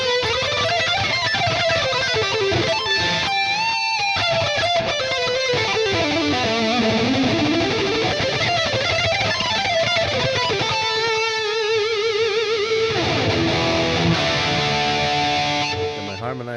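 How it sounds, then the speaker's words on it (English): An electric guitar plays a sustained, singing lead line through a Helix preset with heavy delay and reverb, notes bending and trailing into echoes, loud and continuous with a washy tail near the end. "I have my lead sound. It's just got more delays and more reverb."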